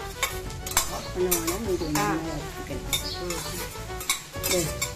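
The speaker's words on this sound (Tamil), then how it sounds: "இப்ப இதெல்லாத்தையும் நல்லா வாசனை வரும்படியா வறுத்துக்கணும்" Chillies and spices being dry-roasted in a pan for puliyodharai, with steady stirring scrapes, metal pan clinks and a light sizzle, close and continuous.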